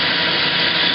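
Steady abrasive rubbing as a tool deburrs the outer diameter of a metal spacer end, a continuous loud scraping with no pauses and no talk.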